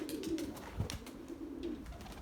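Erzurum white breeding pigeons give soft, rolling coos, close and moderately quiet, over a few seconds of faint background clatter.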